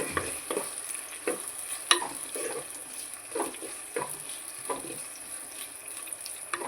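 Sliced onions fry in oil in a pan for egg biryani, a steady close sizzle broken by regular scrapes and taps of a spoon as they are stirred, with no one talking.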